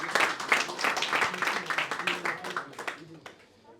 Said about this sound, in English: Guys, big round of applause for all the sponsors